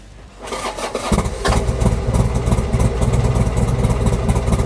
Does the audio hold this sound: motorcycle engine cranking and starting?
yes